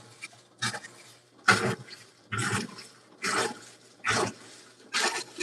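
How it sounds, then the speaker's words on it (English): A GE GTW220ACW0WW top-load washing machine agitating hard with a small load, giving loud rhythmic bursts of sloshing water about once per second, close by, with no talking. "There's some strong agitation right there. Yeah, it's a lot stronger when you have a smaller load."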